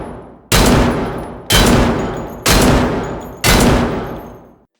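Four loud, evenly spaced shots from a Desert Eagle chambered in .50 AE in the video game Escape from Tarkov, each a sharp blast with a long decaying tail, fired about once a second with no talking.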